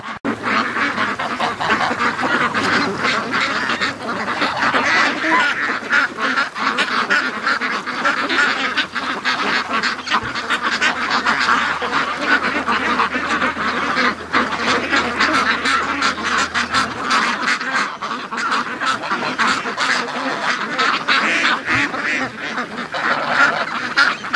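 A noisy flock of free-range ducks quacking and geese honking, dense and continuous, with overlapping calls near and far and no talking.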